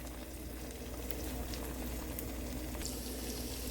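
Steady, dense crackling sizzle of vegan garlic bread frying in a hot pan on medium-low heat, continuous and close, with no talking.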